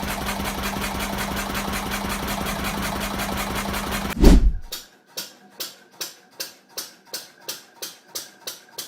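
A Lister CS Start-O-Matic single-cylinder, water-cooled, slow-speed diesel engine from the 1930s–1950s: a loud steady running chug cuts off with a thump, followed by slow, evenly spaced exhaust beats, close and alone.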